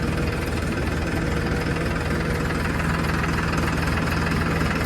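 A tractor engine runs steadily out in a pigeon pea field, giving a continuous close, rough knocking hum with a constant low drone and no speech.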